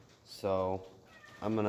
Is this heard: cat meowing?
yes